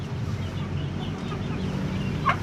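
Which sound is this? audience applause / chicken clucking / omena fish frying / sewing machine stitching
chicken clucking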